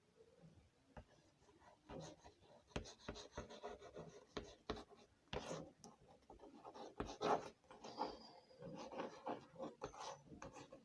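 Chalk or pen scratching steadily while a maths problem about a cube-shaped box is written out during a lesson, a close continuous rubbing with short pauses, faint and without speech.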